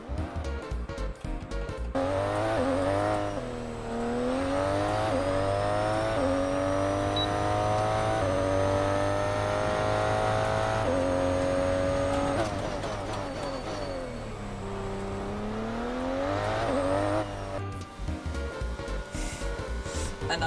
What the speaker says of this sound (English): We have V12s back in Formula 1. This sounds interesting, to say the least.